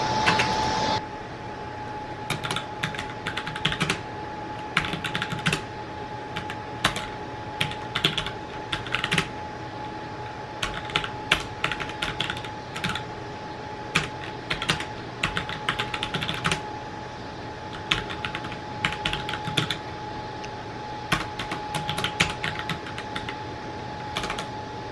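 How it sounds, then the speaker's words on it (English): Keys clatter on a ROCCAT Vulcan 122 RGB mechanical keyboard, bursts of fairly quiet, close clicks in an uneven rhythm with short pauses, alone over a faint steady hum. "it's an RGB mechanical keyboard. And let's start typing stuff."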